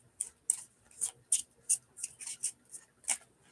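A deck of playing cards is shuffled by hand during a magic trick, giving a quiet series of about a dozen sharp, crisp flicks and snaps in an irregular rhythm, close by, with no talking.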